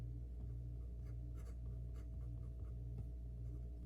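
Someone writes on a board during a class, the faint scratchy strokes coming in short bursts over a steady low room hum, with no one talking.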